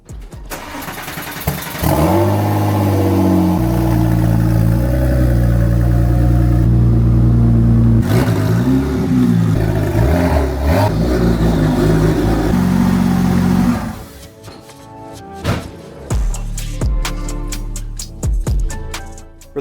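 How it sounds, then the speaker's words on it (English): A Porsche 996 engine starts and idles close by, rising in a rev and settling into a steady low rumble with shifting pitch as the car is turned around, then cutting to quieter clunks and rustling. "Now I want to turn the car around and start working on the speakers."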